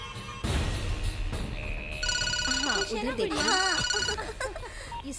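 A telephone rings with a bright electronic trill, repeating in bursts, while people talk over it and music plays underneath.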